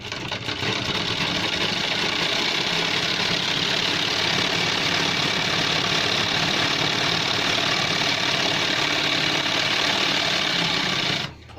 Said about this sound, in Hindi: अब इसके कॉलर की चारों तरफ जो है हम एक पैर की सिलाई लगाएंगे